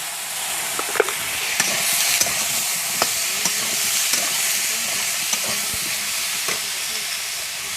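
Tilapia pieces frying with eggplant in a pan of hot oil, a steady loud sizzle with scattered pops and spatter crackles throughout, no voices.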